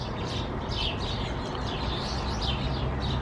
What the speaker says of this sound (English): All the birds are tweeting, look.